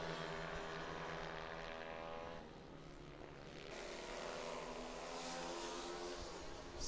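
Racing motorbikes roar past on the Ottobiano circuit during a European Rival Trophy race, a loud continuous engine drone with shifting pitch that dips slightly midway, then swells again as the bikes pass close.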